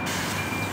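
A bus on a street near Takanekido Park in Japan, heard as a steady close engine rumble with a high tonal beeping or whine running through the short moment.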